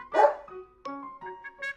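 A police dog barks on command: one sharp, close bark followed by a few shorter, softer yips and whimpering barks in quick succession, with no talk over them.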